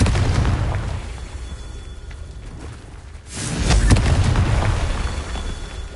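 A fire-spell blast in the video game Hogwarts Legacy: low rumbling ambience, then a sudden booming burst that swells into a loud roaring explosion and lingers to the end.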